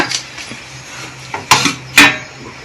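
A metal weight lifted off a preheated pot used for baking a cake, two sharp close metallic clanks after quieter handling knocks, no voices.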